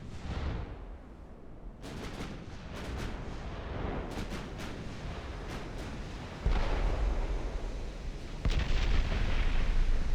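Battleship armour-piercing salvos in the naval game Ultimate Admiral Dreadnoughts: a rumbling barrage of heavy booms and sharp cracks, with distant reports and louder, closer thuds that swell toward the end, and no talk.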